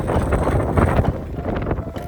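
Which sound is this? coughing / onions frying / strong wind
strong wind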